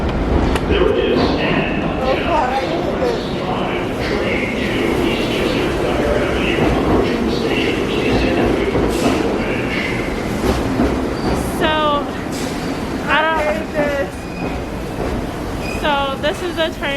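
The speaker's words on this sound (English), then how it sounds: "So this is the train we're gonna get on." A subway train pulls into a station with a steady loud rumble and rolling clatter, then high wheel squeals ring out toward the end as it brakes to a stop.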